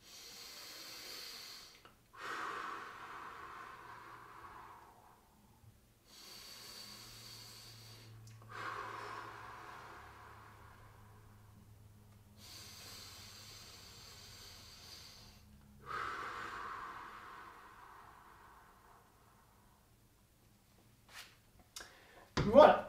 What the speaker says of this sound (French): On est parti pour 3 longues respirations.